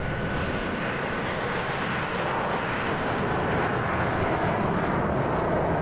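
A Hawker Hunter T7 jet rolls down the runway for takeoff in Microsoft Flight Simulator 2020. Its engine gives a steady, loud, unbroken roar with a broad hiss and rumble that holds throughout.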